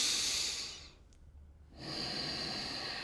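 Slow, steady breath drawn in and let out as a breathing exercise, a long airy exhale at close range, then a quiet pause and another deep breath starting, with no talking.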